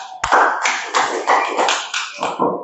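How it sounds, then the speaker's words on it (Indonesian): A primary school class claps hands together in a quick, rhythmic burst, about nine sharp claps in a row, loud and close. "Tepuk tangan."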